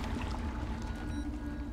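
Wading through water in The Solus Project, a steady soft sloshing and trickling that continues throughout, faint and close, with no talk over it.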